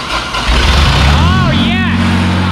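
An engine cranks, then catches and settles into a deep rumbling idle, loud and close, while voices speak over it.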